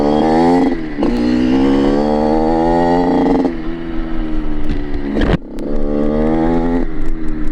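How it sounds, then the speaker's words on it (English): Derbi Senda off-road motorcycle engine running at idle, a loud steady buzzing drone that sags and wavers as if about to stall, with a sharp dip midway before recovering. "I have the idle screw turned all the way up and it's just barely holding idle."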